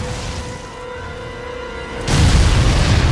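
Rocket blasts strike a large creature in Lost Planet 2: after a steady hum, a sudden loud, dense boom hits and holds to the end.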